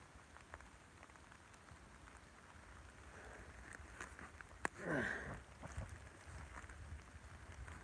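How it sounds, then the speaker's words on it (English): Heavy freezing rain falls steadily through woods, making a continuous close hiss and patter, with a sharp knock and a brief swell of louder noise partway through. "It's raining a lot harder out here now."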